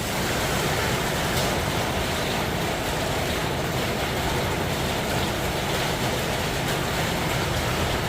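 Rain falling outdoors in a steady, dense wash of broadband hiss that stays loud and even throughout, with no voices.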